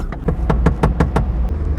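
A small Daewoo Tico kei car pulls away under firm throttle, its engine rumbling close and loud, with a string of about six regular, sharp rhythmic bursts over the low drone.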